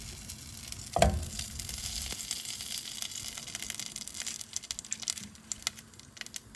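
About 453 grams of butter melting in a slowly preheated pan to make ghee, with a thump as it goes in, then a steady close crackling sizzle that grows busier and more popping over several seconds, with no voices.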